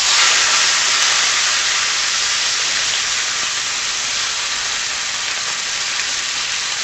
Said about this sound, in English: after about 4 minutes, I'm going to go ahead and turn my roast over